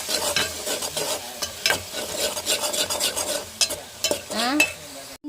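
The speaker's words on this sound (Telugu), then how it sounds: "కరేపాకు ఇదైతే బాగా బ్రౌన్ కలర్ వచ్చిన దాకా వేయించేసుకోవాలి" Curry leaves frying in a pan with ginger, garlic and coconut paste until brown, a steady close sizzle broken by scraping stirs and metal spatula clinks.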